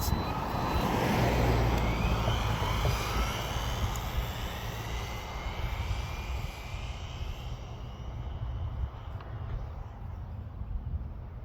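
A Louise LRX RC car at full throttle whines past in a rising, doppler-shifting electric motor sweep that is loud at first and then fades off with distance.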